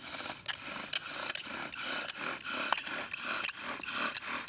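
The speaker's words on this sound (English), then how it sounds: "Next thing we're going to do is burn that indentation so our spindle and our fireboard are really tight" A bow drill spindle grinds into a wooden fireboard in repeated rhythmic back-and-forth strokes, a dry scraping whirr with sharp squeaks at each stroke reversal, close and steady.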